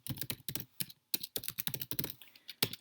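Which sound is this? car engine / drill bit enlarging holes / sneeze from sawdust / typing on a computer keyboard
typing on a computer keyboard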